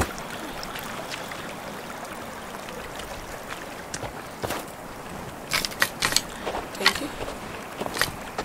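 Hands scrubbing in a stream in Sons of the Forest: a continuous water rush, then a burst of close, sharp splashes and sloshing in the second half.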